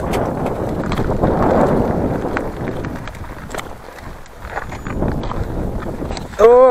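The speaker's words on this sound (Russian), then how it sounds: "О, хорошо, ветер попутный сегодня." Steady wind in the Altai mountains rushes and buffets the microphone, with a person speaking under it and a brief whistling sound at the end.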